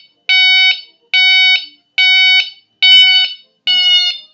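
Smart boat bilge monitor alarm buzzer sounding loudly nearby, five identical harsh electronic beeps about half a second long in a steady rhythm, with no talking.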